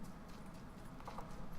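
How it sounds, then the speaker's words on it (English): Footsteps in the video game Drop Zone, a steady muffled clopping patter that runs throughout at moderate level over a dense, noisy in-game background. "I hear other footsteps behind you."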